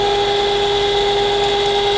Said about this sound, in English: Now we're drilling this out.